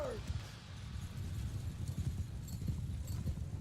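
Horse archers' mounts trot in the medieval battle game Bannerlord, a dense, continuous patter of hooves close by, with battlefield ambience layered over it.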